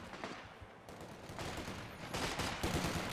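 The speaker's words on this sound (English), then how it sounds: "We do have volley fire active there." In Company of Heroes 2, a squad's volley fire crackles as rapid, overlapping rifle and machine-gun bursts, moderately distant and rising in intensity toward the end, mixed with battlefield noise.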